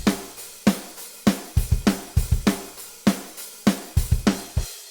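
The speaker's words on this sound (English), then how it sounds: "when you have that hard hit and then like a soft ghost note" Programmed pop punk drum groove from GGD drums, with a lighter hi-hat articulation, hard accented hits alternating with softer ghost notes over kick and snare, a tight repeating pattern heard alone.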